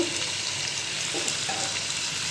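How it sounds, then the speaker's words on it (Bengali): Hilsa fish frying lightly in hot oil, a dense continuous sizzle with occasional small crackles and a faint stir, close up and steady, no voices. "হালকা একটু ভেজে নেব"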